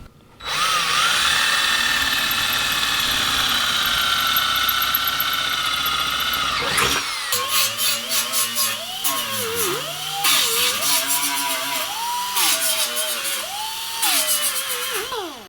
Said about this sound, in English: we're going to pre-drill our holes in the pan, and we're using a 3/16 bit to work with our tech screws.